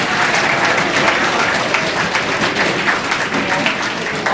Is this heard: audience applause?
yes